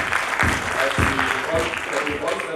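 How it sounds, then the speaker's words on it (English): An audience at a district road safety debate competition claps steadily and fairly loudly, with a voice speaking over the applause. "Can we give another round of applause?"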